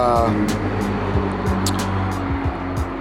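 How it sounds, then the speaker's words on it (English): A car passes on a nearby road just beyond a house, its engine and tyre noise forming a steady low rumble throughout, joined by short sharp clicks. "as you can hear, I live kind of close to a road"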